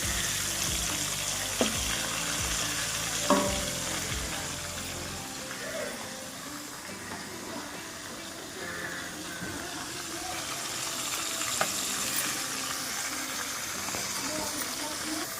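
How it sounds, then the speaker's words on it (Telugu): Eggs and salted fish fry in a pan at home, with a steady broadband sizzle and hiss running throughout, a few soft clinks near the start, and occasional faint background voices. "ఫ్రై చేస్తుందండి"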